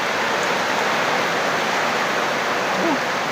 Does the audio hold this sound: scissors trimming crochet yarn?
no